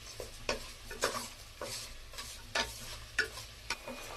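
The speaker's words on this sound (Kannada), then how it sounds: "ಎಲ್ಲ ಮಿಕ್ಸ್ ಮಾಡಿ ನೀರೆಲ್ಲ ಕಮ್ಮಿ ಆಗೋವರೆಗೂ ಫ್ರೈ ಮಾಡ್ಕೋಬೇಕು." A spoon scrapes through mutton chops cooking in pepper masala in a pan, frying until the water cooks off: about eight distinct stirring strokes, close and clear, over a soft, steady sizzle.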